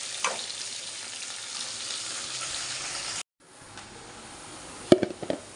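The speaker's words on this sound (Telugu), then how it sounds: "బాగా ఫ్రై చేద్దాం ఇట్లా ముందు" Onions frying in a pan, a loud steady sizzle that cuts out briefly, then returns quieter, with sharp utensil clinks and stirring near the end.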